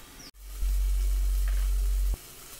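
Chopped tomatoes hitting hot oil in a pan while cooking chicken soup with vegetables: a sharp click, then a steady, bright sizzle lasting about a second and a half before it cuts off.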